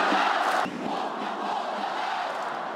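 Home football fans of Ulsan in a Korean stadium jeer together before a match, a loud crowd roar at first that settles into a sustained, slightly softer mass of voices.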